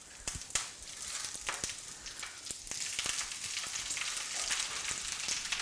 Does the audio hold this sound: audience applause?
no